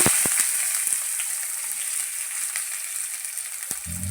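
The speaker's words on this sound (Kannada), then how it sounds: "ಈರುಳ್ಳಿ ಚೆನ್ನಾಗಿ ಫ್ರೈ ಮಾಡ್ಕೋಬೇಕು" Onions sizzle steadily in hot oil with mustard seeds in a pan, a loud continuous frying hiss with a few soft pops and a low knock near the end.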